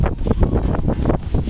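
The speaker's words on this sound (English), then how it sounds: "It's a bit windy." Gusty wind buffets an outdoor field during a metal-detecting dig, rumbling close against the microphone in uneven bursts for under two seconds, with no other sound standing out.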